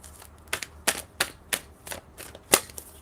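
Cards are shuffled with a series of sharp, crisp riffling snaps, about eight quick bursts in an uneven rhythm, close and fairly quiet.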